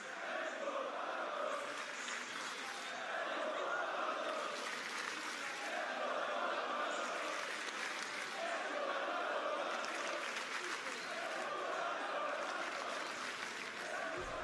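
Roaring arena crowd at a Rainbow Six Siege esports final, cheering and applauding in rhythmic surging waves that sound like chanting, loud and continuous throughout.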